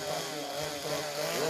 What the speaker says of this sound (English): we've got the chainsaws out in this particular section